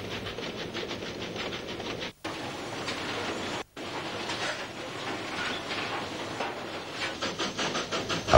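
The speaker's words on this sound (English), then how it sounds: "A wheat train has passed at Beverley." A wheat train passing Beverley, Western Australia, on the 1960s government railway: a steady, loud broadband rumble and hiss of wagons rolling by, with faint clickety-clack near the end and two brief dropouts.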